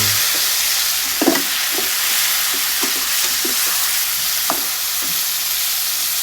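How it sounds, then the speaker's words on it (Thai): Garlic and bird's eye chilies stir-fried in oil in a pan, a steady frying hiss with scattered soft scrapes and clicks of the spatula throughout. "ตามด้วยกระเทียมกับพริกขี้หนู ผัดให้เหลืองหอมได้ที่"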